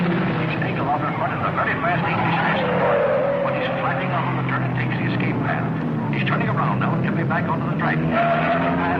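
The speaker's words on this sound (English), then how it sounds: "he's being pushed by Weaver Hatfield, who's driving that very hot 17C and wants to make a real race of it" Mid-1950s race cars run on a track, their engines droning steadily and whining as they pass, with a commentator talking over the noise throughout.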